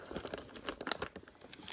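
A clear plastic pocket crinkles and rustles in steady, busy handling at close range, filled with crisp scattered crackles and no voices.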